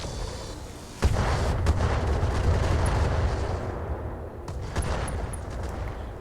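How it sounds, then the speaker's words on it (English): Weapons fire and an ammunition explosion in the mech combat video game BattleTech, a sustained heavy rumbling barrage with sharp blasts near the start and again toward the end, loud and dense throughout with no talking. "he actually got an ammo explosion"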